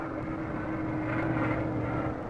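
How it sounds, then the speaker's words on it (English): Carrier-based and land warplanes on a 1944 Pacific bombing run, a steady loud droning engine roar with a constant low hum that swells slightly midway, no voices. "Bombing by land and carrier-based planes softens up Jap emplacements."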